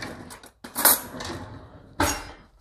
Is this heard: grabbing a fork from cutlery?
yes